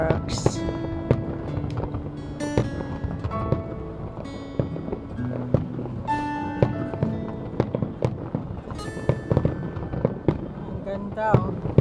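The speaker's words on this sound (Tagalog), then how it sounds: "Umpisa na yung ating fireworks." Fireworks crackle and pop continuously at a Saudi National Day celebration, with sharp bursts and sizzling whistles layered over a busy crowd murmur, moderately loud throughout.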